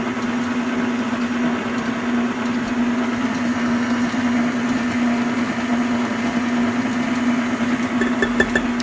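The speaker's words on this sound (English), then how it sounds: "I'm going to turn down the mixer a little bit." An electric mixer running steadily through crepe batter at reduced speed, a continuous close motor whir with a constant hum throughout, with no talking.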